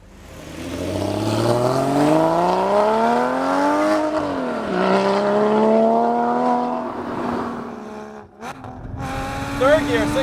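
A loud Sharkwerks-modified Porsche Cayman GT4 engine revs up through the gears to 6,000 RPM in third, pitch climbing, dropping at each shift, then climbing again, close and continuous.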